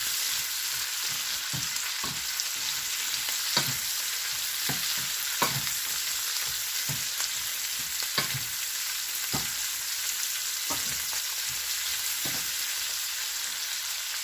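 Snow peas stir-frying in a hot pan with cabbage, a steady loud sizzle broken by repeated sharp clicks and scrapes of a utensil tossing the vegetables, with no talking.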